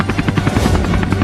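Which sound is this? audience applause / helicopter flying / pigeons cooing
helicopter flying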